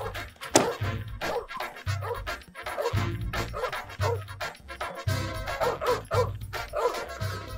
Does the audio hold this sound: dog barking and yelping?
yes